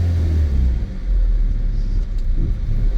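A 1988 Pontiac Fiero pulls away after sitting unused, its engine giving a loud, close, low rumble that dips briefly and then holds steady.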